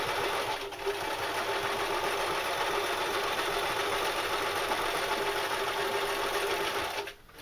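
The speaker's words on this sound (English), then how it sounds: "I'm sewing through 4 layers of material" Close, steady rapid whirring of a sewing machine stitching through four layers of material for a knife carrier, running continuously with a brief stop at the start and cutting off near the end.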